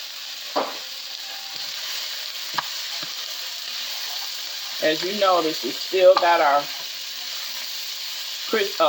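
Vegetables with pre-chopped, browned garlic sear and fry in a pan, a steady broadband sizzle running throughout at close range, with someone talking over it in the latter half.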